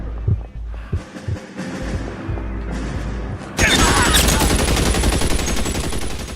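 Gunfire in the video game L.A. Noire, with low booming shots early on, then a dense burst of loud, sustained shooting from midway that fills the rest of the clip.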